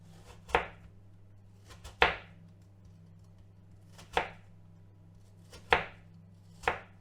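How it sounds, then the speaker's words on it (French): Apples being sliced with a large knife on a board, five crisp, separate cuts spaced about a second or two apart, each a sharp thunk with a short crunch, close and clear against a quiet background hum. "Moi, j'ai pris un grand couteau pour comme ça, c'est beaucoup plus facile à trancher."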